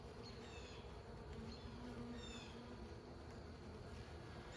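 Honeybees drone around a hive in winter, a steady faint buzzing with a few individual bees passing close, no talk.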